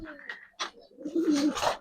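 A Giribaz high flyer pigeon, a single male, gives a short close coo with soft throaty warbling, brief and fairly quiet, with a voice faintly present in the background.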